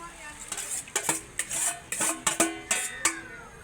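Metal utensil scraping and clattering in a pan as vegetables are stirred into pancit bihon rice noodles, a quick run of close, sharp clinks and scrapes with faint sizzling underneath.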